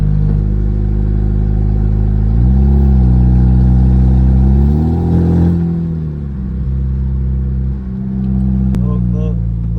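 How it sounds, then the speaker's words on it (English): Hyundai Genesis turbo car with a catless exhaust pulling hard. A loud, close engine drone rises in pitch through the gears, with a brief dip between shifts and a sharp burst near the end. "let's get a quick little pull with this exhaust system"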